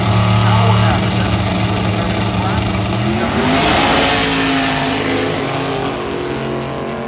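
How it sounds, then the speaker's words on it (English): Drag race cars roar at the line, including a 560 cubic inch Oldsmobile on nitrous, with loud engine drone swelling and pitching upward as they launch at a drag week event, while a commentator talks over it. "here on the left-hand side with his 560 cubic inch Oldsmobile with the 2 to nitrous"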